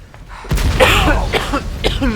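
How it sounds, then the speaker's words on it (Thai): One loud, close cough that breaks into a few rough, rasping bursts, with no other sound around it. "ขอไอก่อนหนึ่งที"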